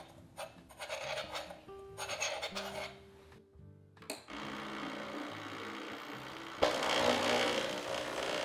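A razor leveling tool shaving excess ground coffee from a portafilter on a Breville Barista Express, with light scraping and clinks at first, then a steadier rasping scrape close by.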